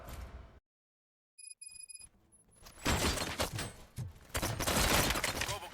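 Bursts of gunfire in the Robocop: Rogue City video game, loud, dense rapid shots in clustered volleys after a brief silence and some electronic beeps, with crashing impacts mixed in.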